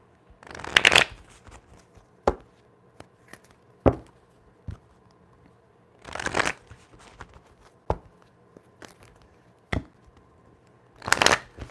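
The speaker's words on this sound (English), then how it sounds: "So let's get a little shuffle" Tarot cards are shuffled in several quick riffling bursts, separated by sharp taps and brief pauses, close and fairly quiet.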